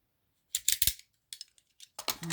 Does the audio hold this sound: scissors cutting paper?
yes